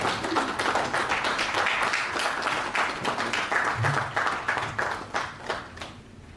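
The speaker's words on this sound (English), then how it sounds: "Just keep clapping till he gets here." Audience applause at a stakeholders' policy dialogue on national blockchain implementation, steady dense clapping from a large room that stays loud for several seconds, then thins and fades toward the end.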